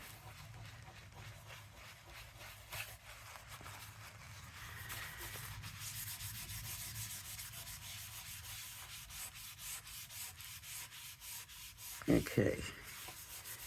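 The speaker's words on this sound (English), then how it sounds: "Let's try it with the paper towel. So we can rub it and it becomes this" A paper towel rubbed over Sizzix oil pastel to blend it: a soft, steady scrubbing swish that runs continuously through the second half, with a single short spoken word near the end.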